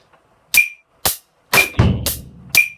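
A drum beat in which bass drum notes land after the snare instead of before it: five sharp, evenly spaced snare cracks, with one deep, booming kick following the third hit, played alone and close.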